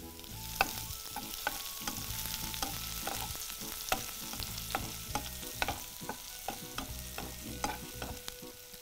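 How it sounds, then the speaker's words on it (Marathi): Finely chopped green chillies sautéing in a pan, with a steady soft sizzle and frequent scraping, clicking stirs of a spoon against the pan throughout, close and alone. "एक 2 मिनटं हलकंसं परतून घेऊया."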